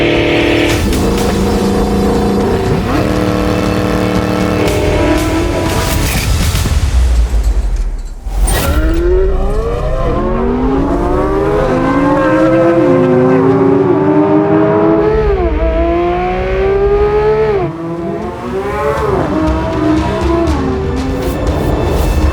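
Track race between a C8 Corvette Z06 and a Porsche 992 GT3: loud, high-revving engines scream through rising gear pulls with sharp upshift drops and a brief gap mid-run, sustained and close.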